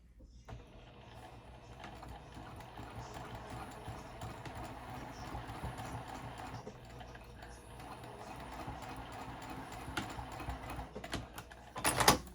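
A home sewing machine runs steadily while stitching a seam on a flat-bottomed zipper pouch, a continuous mechanical whir at close range with small bumps toward the end.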